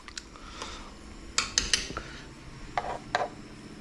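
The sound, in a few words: spoon hitting cooked black beans in pot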